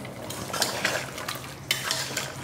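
A ladle stirs eggplant and potato pieces into a pot of mutton curry, giving a steady wet scraping and clinking with occasional louder knocks against the pot's side, close and alone with no talk.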